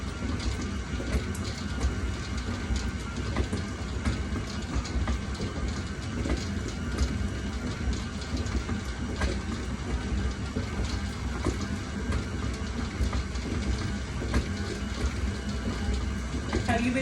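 A KitchenAid stand mixer whirs steadily through yellow cake batter, a continuous droning hum with a faint rattle, running unbroken and fairly close throughout.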